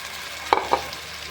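Chicken goes into fried onions in a pan with two quick stirring scrapes over a faint background sizzle, brief and close.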